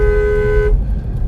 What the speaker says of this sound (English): I'm gonna honk